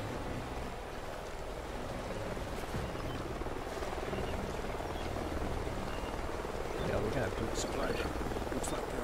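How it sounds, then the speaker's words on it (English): A helicopter in a video game whirs steadily at a distance through canyons, a dull continuous rotor drone with faint spoken voices over it. "Sounds like a chopper's up ahead of us."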